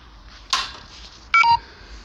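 A telephone gives off a few short electronic dialing tones, one brief burst followed by a clearer pair of beeps, close and moderately loud over quiet background hiss.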